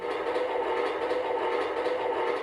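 A keyboard's synthesized train sound effect rumbles steadily with a chugging, rhythmic clatter and a faint whistle-like tone, loud and continuous.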